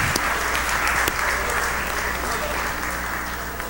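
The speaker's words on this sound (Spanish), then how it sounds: "Vamos a darle un aplauso" A church congregation claps for a member in steady, close applause that holds evenly for a few seconds before easing slightly.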